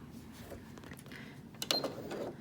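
A sewing machine makes a brief mechanical whir and click as the needle lowers, a short close burst after quiet room tone.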